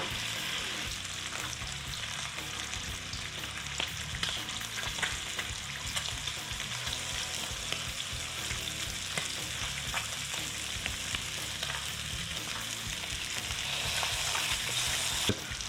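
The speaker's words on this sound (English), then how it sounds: "Once the bacon starts throwing some grease on your pan" Bacon frying in a pan for double cheeseburgers, a steady dense crackle and spit of hot grease that holds level throughout with no voices.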